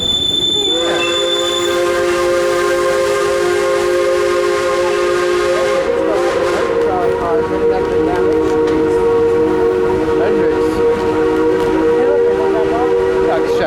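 The Durbin Rocket, a tourist steam train, sounds a loud sustained steam whistle that shifts pitch midway, with hissing steam and rumbling train noise continuing close by.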